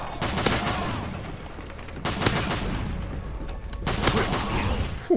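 Gunfire from an AA-12 automatic shotgun in a Call of Duty match, loud dense bursts of blasts at the start, middle and end over a constant churn of game noise.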